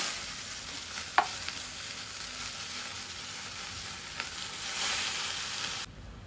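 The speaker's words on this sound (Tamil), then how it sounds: "நல்லா கீரையெல்லாம் வதக்கிக்கலாங்க." Greens sautéed in a pan for herbal chutney, a steady sizzle with occasional stirring scrapes and one sharp clink, cutting off abruptly at the end.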